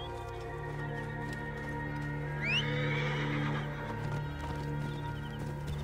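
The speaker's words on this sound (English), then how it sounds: "Right, so I'll go and get my horse in just a sec." A horse whinnies once in the video game Assassin's Creed Origins, a clear rising neigh at mid-volume over a quiet ambient game soundtrack, with faint hoof clops nearby.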